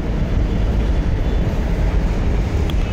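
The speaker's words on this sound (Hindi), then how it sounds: "ये छतरपुर मेट्रो, ऊपर मेट्रो चल रही है" A Chhatarpur metro train runs on the elevated line overhead, giving a steady, loud low rumble that holds for the whole stretch with no voices.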